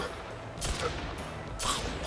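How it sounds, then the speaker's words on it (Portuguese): Two heavy shotgun blasts in a Red Dead Redemption 2–style Western shooter game built in Unreal Engine 5, each a sharp loud boom with a brief decaying tail, spaced about a second apart over low background noise. "A shotgun é mais forte, então 3 tiros já é o suficiente."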